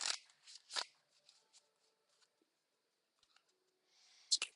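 Sacred symbol tarot cards being shuffled, a few quick riffling bursts and soft card flicks, close but quiet, set apart by near silence, without any talking.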